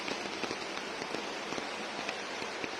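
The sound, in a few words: rain falling in Rome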